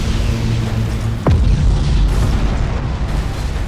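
Explosions in a Battlefleet Gothic Armada 2 space battle, with a battleship stolen from the Space Marines blasting an enemy formation: a sharp booming impact with a falling whoosh over a continuous rumbling, droning bed of battle noise.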